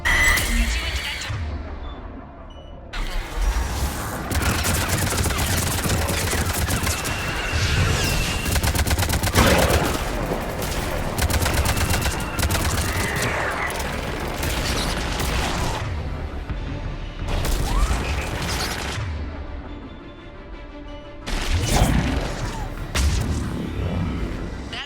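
Sustained barrage of missile and gun fire in Mass Effect Legendary Edition, a dense, loud roar of blasts and rapid shots with brief lulls, carrying on for the whole stretch.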